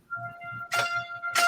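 Two bright plucked strums ring out from an Indian banjo, each chord sounding sharply and then sustaining a steady humming tone beneath, close and fairly loud.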